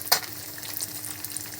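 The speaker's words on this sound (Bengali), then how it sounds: "পাঙ্গাস মাছ ভেজে ফেলে ভাজা হচ্ছে, দেখতে থাকেন।" Pangas fish frying in a pan, a soft, fairly quiet crackling sizzle with a sharp spatter or utensil scrape at the start over a faint hum.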